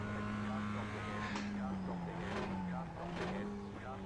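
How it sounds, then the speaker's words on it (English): Several race car engines drone steadily in the iRacing sim during a D License race, with faint passing whooshes and tire noise throughout while a voice talks over them. "So I'm hearing a lot of cars."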